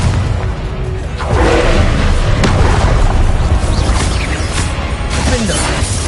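Video game explosions from the Confringo spell in Hogwarts Legacy, loud blasts and crashing booms over a dense, busy game soundscape with no speech.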